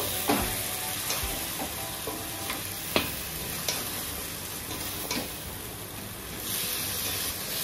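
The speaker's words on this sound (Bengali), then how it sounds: "এখন আমি এটাকে মশলার সঙ্গে ভালো করে কষিয়ে নেব" Goat trotters frying in spice masala in a pan, a constant loud sizzle with occasional sharp scrapes and clicks of a stirring spoon, close up and without speech.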